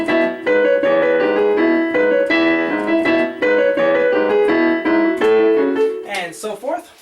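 Solo piano plays Mungo Jerry's In the Summertime, with a bouncy, evenly paced chord-and-melody pattern, loud and close, before a speaking voice briefly takes over at the end.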